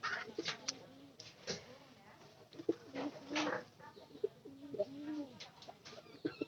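Hobby-kept pigeons, including a white one, coo repeatedly in low, throaty rolling phrases, close by, with other bird calls and faint background voices mixed in.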